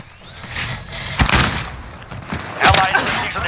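Bursts of gunfire and a sharp blast during a Call of Duty Modern Warfare firefight after a grenade is thrown, two loud cracks about a second apart over a low background rumble.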